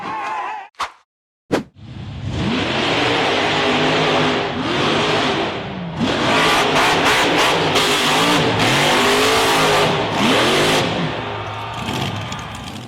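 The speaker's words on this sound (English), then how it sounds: "The white-framed buggy accelerated hard up a rugged rocky hill through the forest." A white-framed off-road buggy climbs a rugged rocky forest hill, its engine roaring loudly and close after a brief silence, revving in repeated rising and falling surges with clattering bursts over more than ten seconds.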